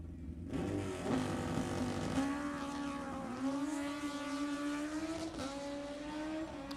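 Drag racing motorcycles at an NHRA event, a Suzuki Hayabusa and a 1978 Kawasaki KZ1000, roaring loud and continuous as they accelerate down the strip with rising engine pitch shifts, no voices over them.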